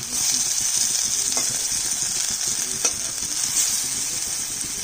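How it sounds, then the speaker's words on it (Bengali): Pieces of spiny gourd (kakrol) fry in a pan with a dense, continuous close-up sizzle and two brief clinks from a spatula, with no voices over it. "এইভাবে করে সবগুলো আমি কাঁকরোল ভেজে নিচ্ছি"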